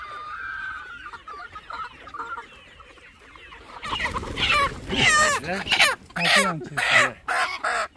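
Andijan black chickens cluck and crow nearby, with bursts of loud, overlapping calls after a quieter stretch where someone talks.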